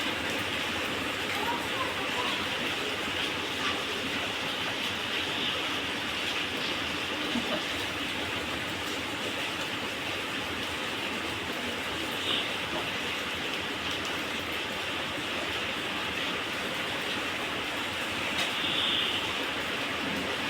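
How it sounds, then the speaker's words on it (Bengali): A dense, steady hiss of heavy evening rain continues without pause, broadband and loud, with occasional faint clicks mixed into the downpour. "এত জোরে বৃষ্টি উঠে গেছে পুরো ভিজে গেছে"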